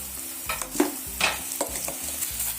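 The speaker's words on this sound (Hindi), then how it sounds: "ये हमारी कटी हुई प्याज थी तो ये हमने इसके ऑयल के अंदर डाल दी है।" Chopped onions sizzle in hot oil for a samosa filling, with a utensil scraping and stirring the pan in repeated strokes over the steady frying crackle.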